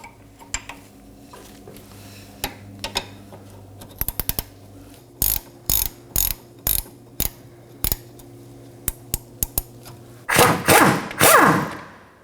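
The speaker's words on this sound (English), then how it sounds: "Now let's remove our jam nut." A wrench ratchets a jam nut loose on a 2015-2023 Nissan Maxima tie rod, a series of close, sharp metallic clicks in short bursts, ending with a louder clattering rattle.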